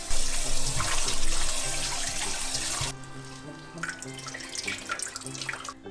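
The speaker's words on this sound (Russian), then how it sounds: "Два раза промываем." Tap water runs hard into a sink while ingredients are rinsed twice for bibimbap, a loud steady rush that drops to a lighter, splashier flow midway, with no talking.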